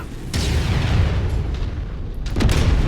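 A heavy boom erupts as a petrol tank blows up in a video game battle, followed by a rumbling low roar and a second burst near the end.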